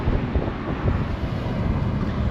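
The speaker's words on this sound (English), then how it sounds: "It's incredibly windy." Strong wind blowing off a river onto the microphone at a crossing point in Atyrau, Kazakhstan, a loud, dense, continuous low rumble and buffeting roar with no voices.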